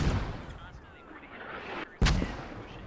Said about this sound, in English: Those mortars still coming in